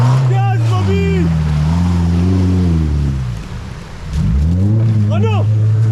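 The engine of an ARO 4x4 off-road vehicle revs loudly and close by with a deep, throaty drone that rises, sags briefly and climbs again as voices shout over it.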